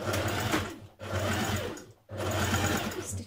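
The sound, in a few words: sewing machine stitching a pleat on a shirt dress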